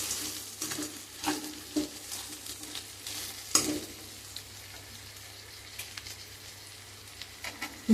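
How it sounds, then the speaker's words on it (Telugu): Boiled potato pieces go into a pan of eggplant curry frying in oil, giving a steady soft sizzle with scattered clinks and scraping stirs throughout, fairly quiet and close. "బంగాళదుంప ముక్కలు వేసుకుందాం."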